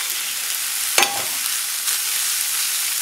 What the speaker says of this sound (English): just saute this, and make sure the vegetables are cooked the way you want